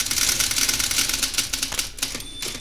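A typewriter clatters in a fast, dense run of keystrokes, loud and close, with a few short pauses and a brief bell-like ring near the end and no voices.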